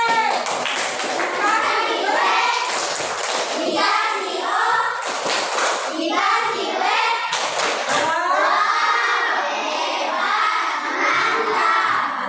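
A school class does a chanted group clap, children shouting rhythmic words together while clapping in patterned bursts, loud and close, the voices dominating over the hand claps.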